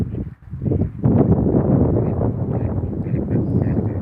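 A flock of ducks quacks in a busy, overlapping chorus close by, the calls dense and continuous throughout with no voices over them.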